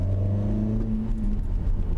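A car fitted with a cat-back exhaust revs lightly at low rpm, giving a deep, grunty, close-up rumble with a droning low note that rises and dips slightly, heard alone for two seconds.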